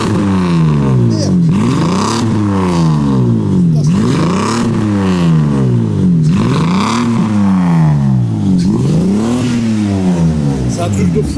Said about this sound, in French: il va mettre quelques petits coups de gaz, frérot, pour te montrer un peu à quoi ça ressemble au niveau de la sonorité de la voiture